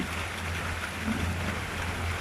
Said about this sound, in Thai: โอ้ลมเนี่ย ไม่ใช่มีแต่ฝน